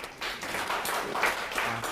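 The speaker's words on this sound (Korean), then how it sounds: "박수 한번 드릴게요." Audience at a hair seminar applauding, a brief burst of dense clapping from a room full of people at moderate volume.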